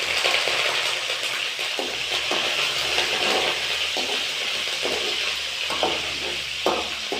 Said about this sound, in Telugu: తాలింపు వేస్తున్నాను.